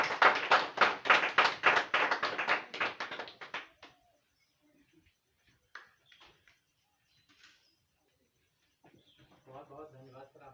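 Loud, dense applause from a live audience welcoming a speaker onto the stage at an indoor business meeting, lasting about four seconds before fading into scattered faint claps and a quiet hall, with a voice starting to speak near the end.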